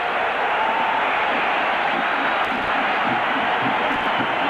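A college football stadium crowd at a 1982 Texas A&M vs. SMU game roars continuously to urge the defense on, a loud, dense, sustained wash of cheering with no clear breaks.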